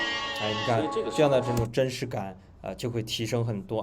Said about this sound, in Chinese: 那我就可以搜一些什么猪圈氛围了、 羊群的这个声音啊，提升它的代入感。